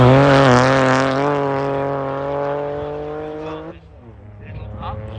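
Hillclimb race car with a 1275 BMC A-series engine screams past at high revs, a loud close engine note that fades as it heads up the hill, with a commentator talking over it.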